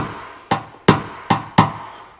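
Four light, sharp taps of a paddle tool on a new car's body panel during paintless dent repair, evenly spaced at a slow steady pace with short ringing decays, close and alone.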